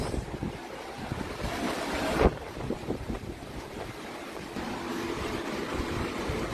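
A flooded river rushes in Talisay, Cebu, making a constant loud roar of churning water mixed with heavy wind buffeting the microphone, plus one sharp knock partway through.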